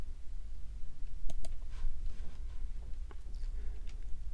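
A computer mouse clicks a few times while right-clicking an uploaded image to copy its address in an online shop admin page; the clicks are short, sharp and fairly quiet over a low background hum.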